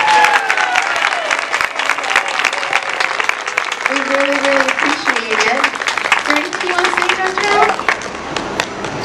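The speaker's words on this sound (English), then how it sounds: "Can you guys give them a big round of applause?" Audience applause at a school gathering for a special-needs program, sustained dense clapping running the full length, with voices talking and calling out over it.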